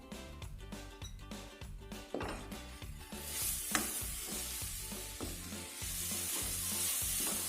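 Cardamom and spices for modak sautéed in a pan, a continuous sizzle broken by rhythmic scraping stirs of a spatula, close and fairly loud throughout.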